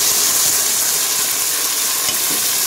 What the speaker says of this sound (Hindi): थोड़ा सा इसको भूनेंगे।